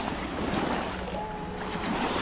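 Sea waves at Hornbæk beach in Denmark, a steady loud roar of surf mixed with wind buffeting the microphone, continuous and close throughout.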